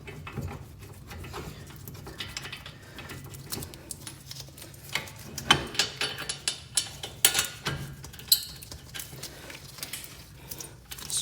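A wrench torquing the 15 mm caliper bolts on a 1996 Volvo 850 Turbo front brake, with a string of irregular clicks and ratcheting ticks growing louder midway, close by in a quiet garage.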